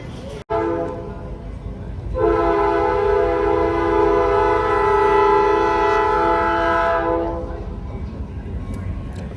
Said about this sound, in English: We caught the train coming back to the station too